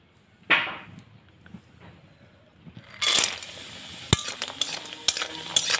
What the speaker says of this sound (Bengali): তেল গরম হয়ে গেছে, এবার ভেজে নিচ্ছি বড়ি।